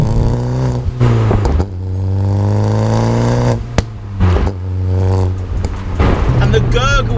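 Fiat Punto Abarth with a TMC remap, the engine revving up and settling back in repeated rising sweeps with gurgling overrun crackle, loud and close, a short exclamation breaking in mid-clip.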